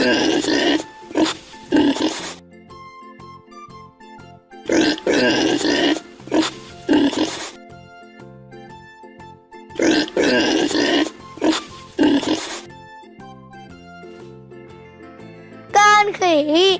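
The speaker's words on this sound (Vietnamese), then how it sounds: "Con lợn." A cartoon pig grunts and oinks in three separate loud bursts of several snorts each, with gentle tinkling children's music playing between them.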